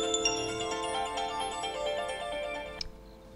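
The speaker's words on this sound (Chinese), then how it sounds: "手机响了。" A mobile phone rings with a bright melodic ringtone, loud and close, playing for under three seconds before cutting off abruptly.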